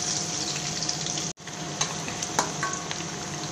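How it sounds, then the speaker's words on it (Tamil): Garlic fries in oil with mustard seeds and dried red chili for gongura rice, a close, steady sizzle that drops out for an instant, then resumes with scattered pops and stirring clicks. "பூண்டு நல்லா வதங்கட்டும்"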